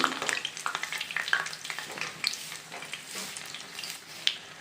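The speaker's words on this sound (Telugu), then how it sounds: "చూడండి వేగుతూ ఇలా పైకి వచ్చేసినాయి" Ginger onion medu vada frying in hot oil, a steady close sizzle with crackling pops and bubbling throughout.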